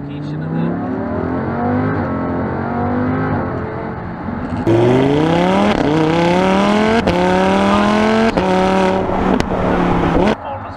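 A Lamborghini Huracan LP610-4 in sport mode pulls hard, its engine note climbing through gears with loud, sustained revving, brief shifts around the midpoint, and a voice talking over it.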